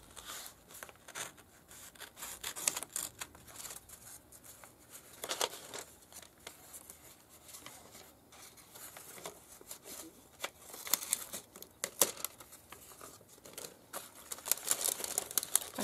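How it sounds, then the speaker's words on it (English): Quiet, scratchy crinkling and rubbing of paper with a few sharper snips and rustles as scissors slit open a paper envelope, close up, no talking. "I need a pair of scissors. Let's see. First thing you have to do is slit it open."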